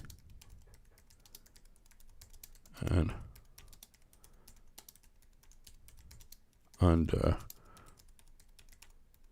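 Rapid, light clicking of fingers typing on a computer keyboard runs steadily throughout, interrupted twice by short bursts of a nearby voice speaking.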